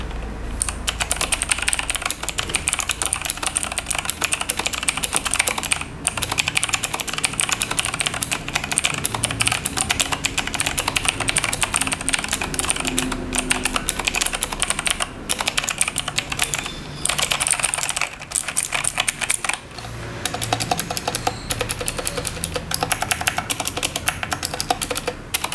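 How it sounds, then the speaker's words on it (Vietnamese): Steady clicky typing on an FL-Esports GK87 mechanical keyboard fitted with Blue switches, dense continuous keystrokes close up at an even pace with brief pauses, no voices. "con này đang sử dụng là Blue Switch cho nên là cái tiếng của nó sẽ có tiếng clicky"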